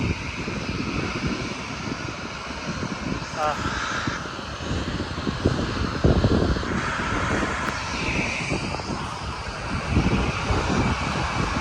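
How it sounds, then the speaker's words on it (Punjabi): A seaside airport where airplanes land and take off sends out a droning jet engine roar that rises and falls in the distance, with a person talking nearby and a crow cawing now and then. "ਇਦਾਂ ਇਹ ਜਹਾਜ਼ ਜਿਹੜੇ ਇੱਥੋਂ ਉੱਥੋਂ ਆਉਂਦੇ ਆ ਸਮੁੰਦਰ ਵਾਲੀ ਸਾਈਡ ਤੋਂ ਤੇ ਇੱਥੇ ਫਿਰ ਲੈਂਡ ਹੁੰਦੇ ਆ ਤੇ ਇੱਥੋਂ ਹੀ ਟੇਕ ਆਫ ਹੁੰਦੇ"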